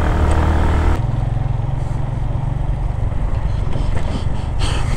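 A motorbike ridden on a mountain road between Swat and Gilgit-Baltistan drones loud and close, its engine a steady rumble under heavy wind buffeting. The tone shifts slightly partway through, and nobody speaks.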